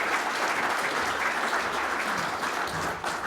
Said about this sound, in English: give our three panelists a massive round of applause